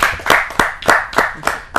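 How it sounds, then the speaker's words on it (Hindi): An audience at a Hindi kavi sammelan poetry gathering claps loudly to welcome a guest, sharp rhythmic claps in quick succession, close and clear. "जोरदार ताली के साथ हम उनका स्वागत करते हैं।"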